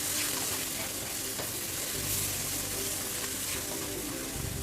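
Red chili and crushed cumin fry in a hot pan, giving a steady close sizzle with light stirring scrapes and no voices.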